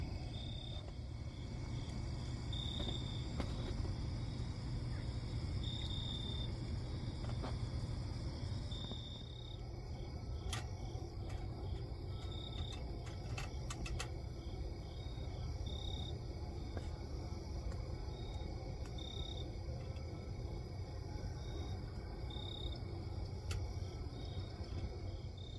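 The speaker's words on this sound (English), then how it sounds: "I can hear the crickets, the katydids," Steady, dense insect chirping fills the night air, a continuous high trilling chorus of crickets and katydids with no voices, beside a quiet Optimus 8R camp stove.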